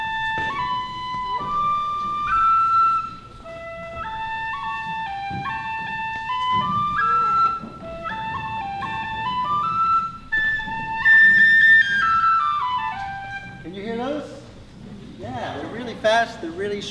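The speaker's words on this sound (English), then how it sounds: "people playing the whistle often don't do that either, and we just pretend to do it by playing really, really fast little notes in between the main notes." Tin whistle playing a melody ornamented with very quick grace notes slipped between the main notes, bright and close, with brief pauses between phrases and some low background noise.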